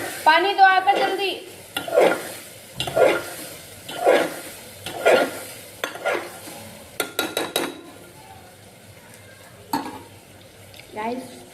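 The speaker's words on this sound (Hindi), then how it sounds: "गाइस तो तड़का लग गया है" Tadka tempering sizzles in a pan and is stirred, with repeated scraping strokes against the pan and occasional clinks of utensils, close and fairly loud, with no talking over it.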